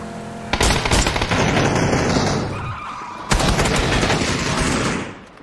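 Rapid gunfire from a video game firefight, loud bursts of automatic shots opening at half a second and again at three seconds, with dense crackling in between and no talk.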